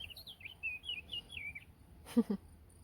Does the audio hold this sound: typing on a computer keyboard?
no